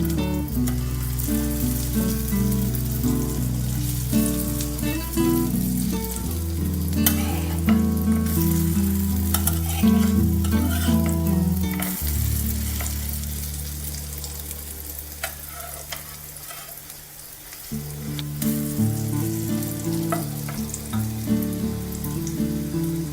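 Cabbage and egg pakoras fry in a pan over low heat, a steady loud sizzle and crackle running throughout with occasional stirring and turning noises, plus faint background music.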